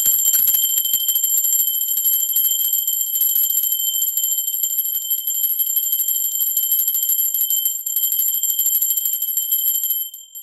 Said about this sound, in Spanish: en el momento que esté sonando la campana, ustedes agradezcan